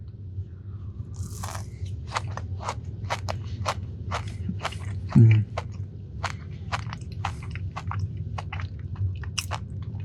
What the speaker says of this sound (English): People that watch eating content can finally see chocolate get eaten with a crunch like that